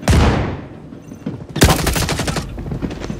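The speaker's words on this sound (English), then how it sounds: "I don't know what this gun's going to do until I fire it." Gun firing in the first-person shooter Star Citizen: a loud opening shot with a long decaying tail, then a dense rapid burst of automatic fire about halfway through that continues before fading into rumbling reverberation.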